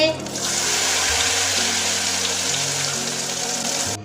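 Spoonfuls of ghevar batter hit hot oil in a pan and set off a loud, steady hiss and crackle of frying that lasts throughout, with no voices.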